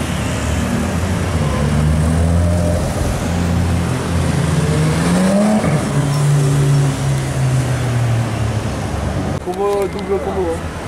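Two Porsche GT3 RS cars rev and pass at Monaco during Top Marques, a loud, sustained engine note rising and falling close by, with people talking over it.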